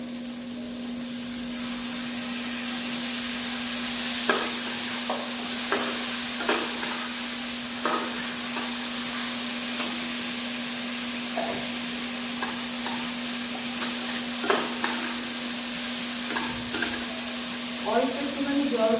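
Spice paste frying and being stirred in a pan for jackfruit curry, a steady sizzle under a constant hum, with irregular scraping strokes of the spoon scattered across the whole stretch.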